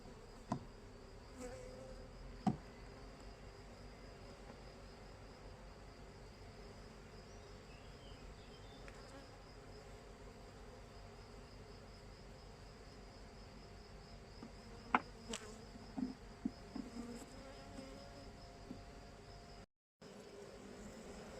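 Honeybees hum steadily inside their beehive, a faint, continuous insect drone with a few soft knocks and clicks from the hive.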